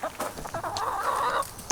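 Backyard chickens cluck and murmur nearby in a short burst of soft, chattering calls at a farm coop, with a brief sharper note near the end.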